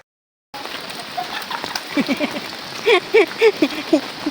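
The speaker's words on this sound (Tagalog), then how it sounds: "Ang lakas ng ulan." Heavy rain pours steadily after a short silent start, a dense hiss with a few louder close bursts of sound on top near the end.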